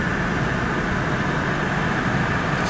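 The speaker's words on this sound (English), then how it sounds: "Subway running outside of it" A steady, broad rumble of a subway train rolling past near the old Yankee Stadium, continuous and moderately loud, with no voices over it.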